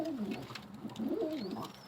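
Homing pigeons, a hen and a male, coo softly nearby in a short run of low rolling coos, fairly faint, with no talking.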